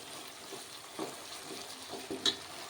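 Native tomatoes fry quietly in a pan with a faint, steady sizzle, broken by a few soft stirring knocks and a small clink, close but low in level, with no talking.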